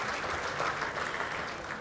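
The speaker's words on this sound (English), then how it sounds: "How about a round of applause for Salem and all of our small business finalists tonight." Applause from a dinner audience at an ethnic business awards gala, greeting small business finalists; a steady, fairly soft wash of clapping that runs evenly through the moment without anyone speaking over it.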